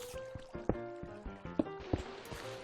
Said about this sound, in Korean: 옆쪽에 물소리가 들리고요